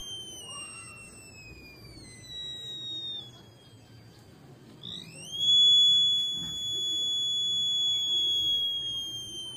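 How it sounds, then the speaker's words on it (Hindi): An alarm from a simple electronic sensor circuit: a loud, high, steady tone that sags in pitch, cuts out briefly, then returns sharply louder and keeps sounding, close over faint background noise. "आँख को नज़दीक ले जाने से अलार्म बजना स्टार्ट हो रहा है और कुछ देर तक बजता रहता है"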